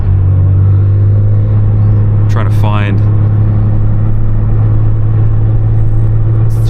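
The engine of a 2024 BMW M2 drones low and steady from inside the cabin on a cold night, a loud constant rumble while someone briefly speaks over it.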